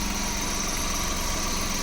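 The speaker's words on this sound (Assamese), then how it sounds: "তো চাই লওক ভালকৈ ইঞ্জিনটো আপোনালোকে। গাড়ী ষ্টাৰ্ট হৈ আছে" A Maruti 800 car engine runs at a steady idle, its even, continuous drone close by and unbroken, with no talk over it.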